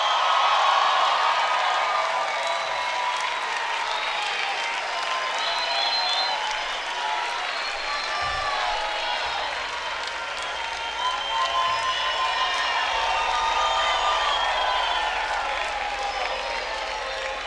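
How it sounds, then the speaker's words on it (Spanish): A concert audience at a music festival gives sustained loud applause, with dense clapping and scattered cheers and whoops filling the whole stretch as a musician is welcomed to the stage. "Un aplauso muy fuerte"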